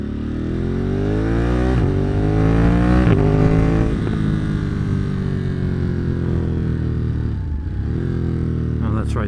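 A Ducati Monster motorcycle fitted with a quick shifter is ridden along. Its engine drone is loud and close, repeatedly rising in pitch through the revs, then dropping sharply as it shifts gears, and it never stops.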